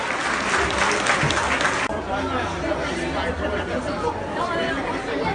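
At an apple fair, a crowd applauds a prize winner with a burst of dense clapping that stops abruptly after about two seconds, leaving people chattering and talking.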